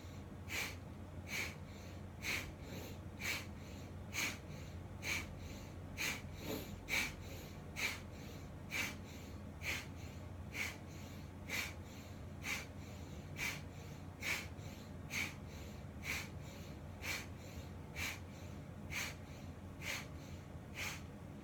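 Rhythmic breathing during a yoga twist in a Kundalini balance session, a steady series of short, sharp, snort-like breaths repeating roughly every second, close and fairly quiet.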